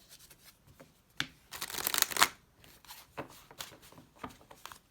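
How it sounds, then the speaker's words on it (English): A deck of oracle cards is shuffled by hand in soft riffling bursts, one longer louder rustle in the middle and lighter flicks after it, close and with no talking. "I'm going to shuffle them like this"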